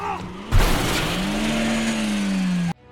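A car in a film scene careens off the road and plunges down a cliff, a loud sustained roar of engine and tire noise with a sharp impact at the start, cutting off abruptly to near silence.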